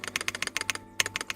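A new computer keyboard clacks under fast typing, a rapid run of crisp close keystrokes with a brief pause before a louder press and a few more taps.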